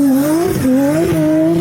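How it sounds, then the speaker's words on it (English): 2026 Dodge Charger with a T6 Hurricane engine, 800 horsepower and rear-wheel drive, held at a loud close rev with a sustained wavering tire squeal over it and no voices. "We got a T6 Hurricane, 800 horsepower, big spoolie boy,"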